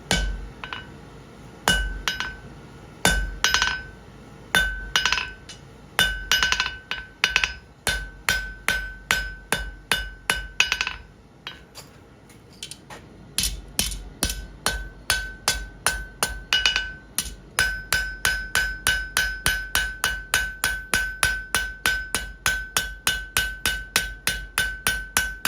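A hammer strikes a fire poker on an anvil again and again, with loud ringing metallic blows in steady runs, a short pause near the middle, then a faster rhythm to the end.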